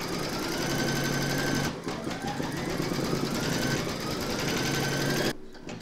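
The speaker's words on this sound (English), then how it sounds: "Pop your hoop into your machine and stitch round number five to secure them." An embroidery machine stitches a round on an in-the-hoop mushroom coaster, a steady fast mechanical whir with dense needle rhythm running continuously, a short pause near two seconds, and stopping near the end.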